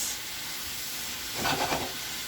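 Vegetables and onions for a Philly cheesesteak calzone filling sizzle in a pan, a steady close hiss that swells briefly as the food is stirred, with no voices.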